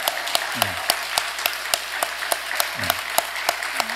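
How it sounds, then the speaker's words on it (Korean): A church congregation claps together in worship, sharp rhythmic hand claps in a steady beat, loud and near, with a few brief voice sounds between them. "하나님께 영광을 돌리는 박수를 하겠습니다"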